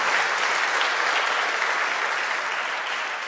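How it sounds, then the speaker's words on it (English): A conference crowd at NG-DE Berlin 2025, an Angular event, applauds the organizers with loud, dense, even clapping from many hands that holds steady throughout. "A round of applause for Workshops.de for organizing it."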